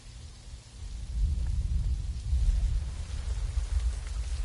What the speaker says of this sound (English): that thunder sounds so cool in this game